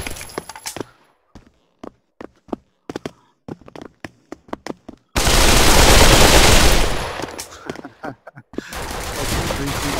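Gunfire in the VR shooter Pavlov on a chess map: sharp single and rapid shots at first, then a loud, dense burst of continuous automatic fire, close and intense.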